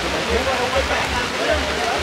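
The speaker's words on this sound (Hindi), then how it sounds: "बारिश हो रही है" Steady rain hisses as a dense, even wash of noise throughout, with no clear voices standing out, at an outdoor street market.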